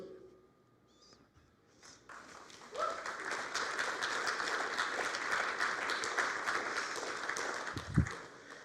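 Applause from a church congregation at a Unity service breaks out after a quiet moment with a few faint sounds, swelling into broad, sustained clapping that holds steady, with a single low thump near the end.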